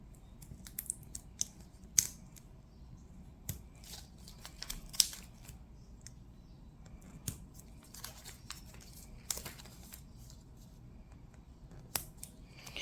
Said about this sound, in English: We're going to cut them out, so it doesn't matter.